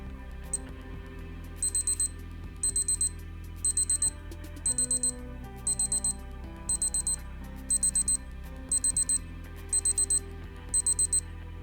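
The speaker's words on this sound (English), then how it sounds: "So again, we have a 10-second countdown timer alarm" Casio A500W digital watch countdown timer alarm beeping in repeated short bursts of rapid high beeps, about a dozen evenly spaced groups, fairly clear over a low background hum.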